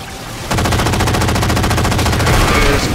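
Assault rifle fire from Halo 4 erupts after a short pause and rattles on in a fast, steady, continuous stream of loud shots.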